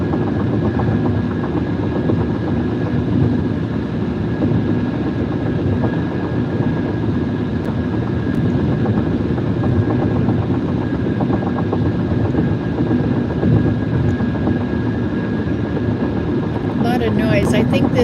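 A car drives over a cracked cement road south of Montreal, producing a steady, loud rumble of tire and road noise that continues unbroken for the whole stretch.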